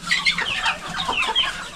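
Chickens cluck in a steady run of short, close calls throughout, with no speech over them, in a farmyard setting where duck eggs lie nearby.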